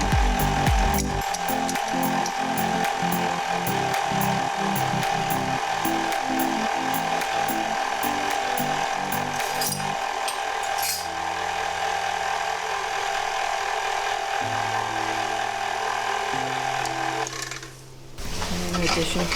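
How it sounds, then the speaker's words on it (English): Electric mixer running on low speed through brownie batter, a steady loud mechanical whir with a rattling, pulsing rhythm that holds for most of the stretch before briefly dipping near the end. "Put the mixer onto a low speed"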